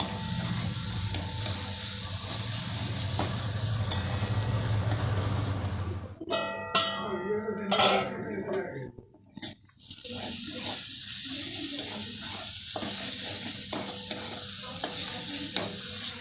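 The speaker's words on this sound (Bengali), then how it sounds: "কাশ্মীরি লাল লঙ্কার গুঁড়ো আবারও আমি ভালো করে এটা কষিয়ে নিচ্ছি" Spiced masala with Kashmiri red chili powder and turmeric sautéing in a pan for soybean mince, with steady stirring and frying sizzle, a burst of clattering scrapes midway, then continued close, loud stirring.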